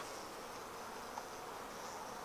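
Honeybees hum in a steady, dense, close buzz around an opened beehive while a colony is being moved. The buzzing continues unbroken and fairly quiet, with no talking.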